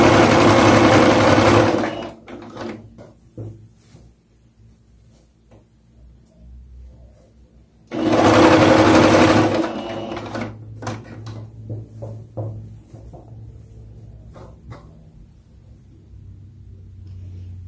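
Two loud bursts of a sewing machine running fast while stitching a seam on a gathered dress, each about two seconds long, separated by quiet handling clicks and rustles.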